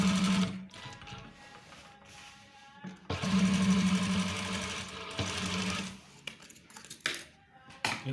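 A sewing machine stitches police uniform trousers in close-up bursts of rapid whirring, stopping and restarting several times with small clicks and handling noises in the pauses.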